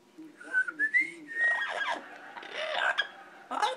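A small bird chirps and warbles in short whistled bursts, fairly close, with scratchy trills toward the end and no talking.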